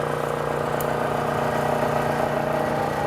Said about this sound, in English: I'll turn the machine on in the forward direction.